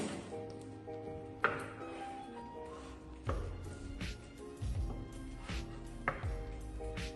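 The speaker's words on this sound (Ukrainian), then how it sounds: "Беремо картоплю та нарізаємо на часточки." Several sharp knife chops cutting boiled potatoes into wedges on a cutting board, spaced irregularly, close and fairly loud, with faint kitchen background between strikes.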